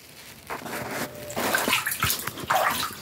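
Water poured from a bowl over a pet during a bath: a few separate sloshing pours and splashes that come in bursts, close by, with a quiet pause at the start.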